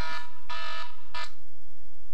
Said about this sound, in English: There goes, of course, the alarm on my phone there.